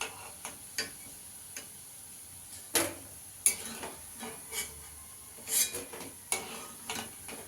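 Puffed rice (muri) pakoras frying in oil, with a faint steady hiss broken by scattered clinks and taps of a spoon against the pan.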